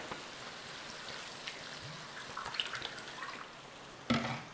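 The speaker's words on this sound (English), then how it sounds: "In there with some water." Water poured into a pan of cooking beef mince with onion powder and frozen vegetables, a soft trickling and splashing that builds mid-clip, then a brief louder splash near the end, with no talking.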